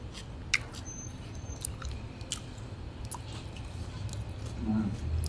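Someone chews a crunchy chicharrón snack close to the mic, with soft wet crunches and mouth squish, and quiet murmurs now and then.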